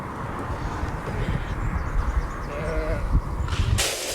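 Sheep bleating from pens on a Shetland farm, several overlapping calls over a steady low rumble of wind and movement, fairly close, with a sharper noise at the end.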